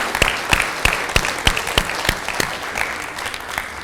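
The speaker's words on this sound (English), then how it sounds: "So please give them all a big round of applause." An audience at a Q&A panel event applauds with steady, evenly spaced claps that stay loud and fairly close throughout.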